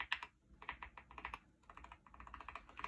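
A mechanical keyboard with Nebula purple linear switches is typed on in quick, soft, fairly quiet bursts of clacking keystrokes, with a brief pause midway and no voices.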